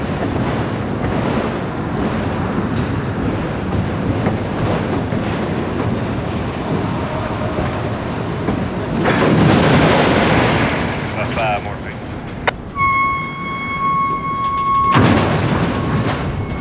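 A freight train hauled by SD60M locomotives rumbles steadily past in Cincinnati, Ohio, with a continuous roar, a sudden loud clank partway through, and a high whining tone near the end.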